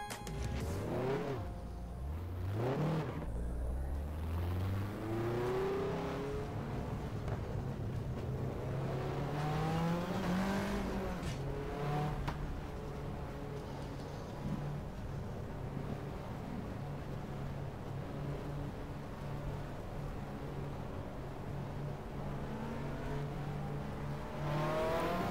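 A Nissan Primera touring car in the BTCC racing game drives out, its engine rising through the gears with repeated revving sweeps before settling into a steady droning run, with constant wind and road noise and no talking.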